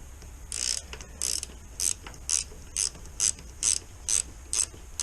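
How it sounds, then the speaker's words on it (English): Close by, a ratchet clicks in about nine regular bursts as a 14 mm socket turns while oil lines are fitted on a ZX10B motorcycle, bright and crisp over a quiet room with no talk. "Do you like the sound of a ratchet?"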